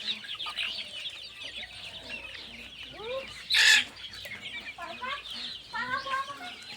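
Sonali chickens grazing on grass alongside Chinese ducks, giving soft, scattered clucks and short calls at close range, with one louder squawk midway and quiet farmyard background.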